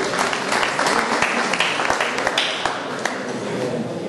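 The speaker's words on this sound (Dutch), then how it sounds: "Een applaus voor Lene Vrijsen." Audience applause at a women's cycling team presentation, steady dense clapping from a crowd that holds throughout, with faint voices underneath.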